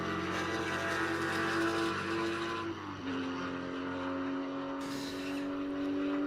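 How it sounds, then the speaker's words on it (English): A classic race car at the HSR Daytona Classic 24 Hour brakes and downshifts through the Le Mans chicane at Daytona. Its loud engine drone drops in pitch, then settles into a steady, strong tone as it pulls away. "as we watch David Smith negotiate the Le Mans chicane"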